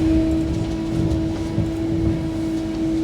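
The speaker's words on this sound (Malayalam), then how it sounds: "സഗോറിയയിൽ വണ്ടി നിന്നു." A train slowing to a stop at Zagorje railway station in Slovenia gives a steady low rumble with a sustained mid-pitched whine, heard from on board and fairly loud, with no voices.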